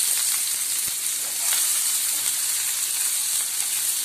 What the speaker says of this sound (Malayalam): കുറച്ച് വെളിച്ചെണ്ണ ഒഴിച്ച് ഉള്ളി എല്ലാം വാട്ടാൻ വേണ്ടിയിട്ടാണ്